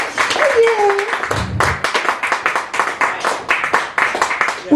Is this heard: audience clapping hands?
yes